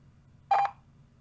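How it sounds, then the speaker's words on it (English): Single short telephone keypad tone pressed while placing a call, one brief clear beep standing alone over a faint low background hum. "I'm gonna try to get him on the phone"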